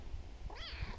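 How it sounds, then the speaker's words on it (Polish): A cat gives a single rising-then-falling meow outdoors, close by and clear over a low steady background rumble, with no talking. "Znowu kotek, tylko ze mną drugi robi dzisiaj."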